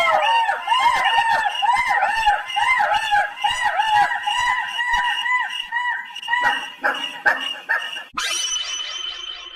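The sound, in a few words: chickens clucking and rooster crowing in cartoon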